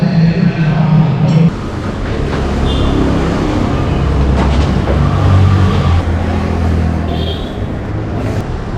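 A passenger train running from Kandy toward Nawalapitiya in Sri Lanka gives a steady, loud low rumble of wheels and carriage throughout, with brief higher squeals and rattles over it.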